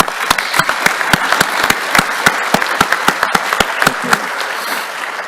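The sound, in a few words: audience applause at a ceremony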